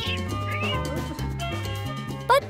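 A captive serval kept as a house pet calls close by in a series of short, rising cat-like cries and meows, with a sharper cry near the end and no talking.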